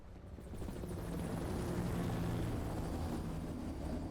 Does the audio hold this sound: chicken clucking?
no